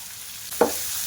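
Chopped green chili and capsicum sauté in a pan for spicy vermicelli, a faint background hiss broken by a brief stirring scrape and a second short scrape near the end.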